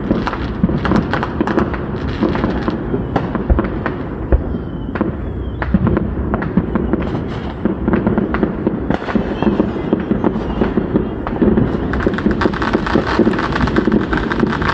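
Fourth of July fireworks bursting outdoors, a dense continuous barrage of booms, thuds and crackles that stays loud from start to finish with no talk over it.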